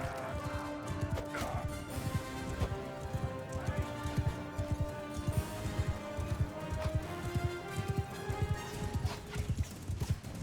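Steady hoofbeats pound throughout a Mount & Blade II: Bannerlord battle, dense and continuous under layered battle noise and music.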